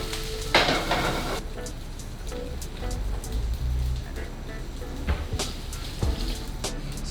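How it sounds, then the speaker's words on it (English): Salmon frying in generous oil in a pan over medium heat, a steady sizzle with occasional pan clatter and spatters, close by and continuous, with a voice talking over it at times. "Got a pan here with some oil. I'm gonna be generous. Get this to medium heat and start cooking the salmon."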